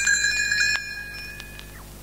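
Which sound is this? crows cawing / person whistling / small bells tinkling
small bells tinkling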